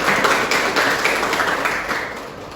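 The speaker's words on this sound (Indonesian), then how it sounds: "Tepuk tangan untuk Hidian Anda." A classroom of students gives a brief round of clapping for a classmate after a lesson on natural resources, a steady, fairly close patter of many hands lasting a couple of seconds with no talk over it.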